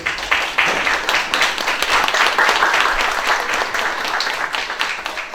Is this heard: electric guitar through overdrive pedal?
no